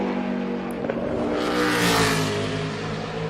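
A 2012 NASCAR Sprint Cup stock car on a qualifying lap roars loudly, its engine pitch swelling as it rushes closer and peaks near the middle before easing slightly.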